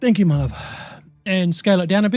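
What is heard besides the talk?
No everyday noise stands out behind the speech.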